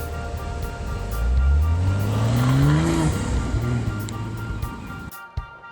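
A BMW 840i xDrive convertible with a 4.4-liter bi-turbo V8 accelerates, its engine note rising through the gears in a strong, sustained pull, then easing off near the end.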